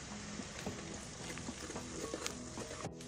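Chopped onion and red chili powder fry in hot oil in a pan for Malvani chicken, giving a soft, steady sizzle with scattered light stirring clicks, faint and close.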